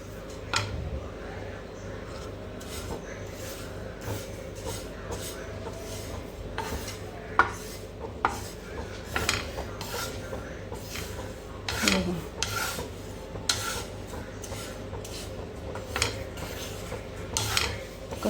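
Sesame seeds roast in a pan over a low flame while a spatula rubs and scrapes them steadily, a close rasping stir with occasional knocks against the pan and some talking.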